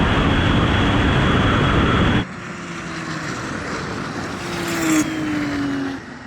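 A Porsche 911 Turbo, 964 and 993 generation, accelerates hard in a drag race, a loud close engine roar that drops suddenly to a lower steady drone with rising whine and tone as the car keeps boosting.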